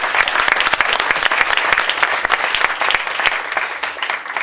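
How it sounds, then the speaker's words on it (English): An audience at a volunteer day talk gives a sustained round of applause, dense overlapping claps close and loud throughout, with no speech on top. "So can we give her one last round of applause before she goes?"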